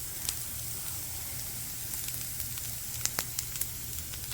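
Scattered hash browns frying on a flat-top griddle, giving a steady soft sizzle with a few brighter pops and crackles toward the end, no voices.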